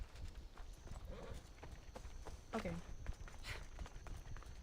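Horse hooves clip-clopping at a walk in the video game Assassin's Creed Odyssey, a steady muffled rhythm under game ambience with someone talking over it.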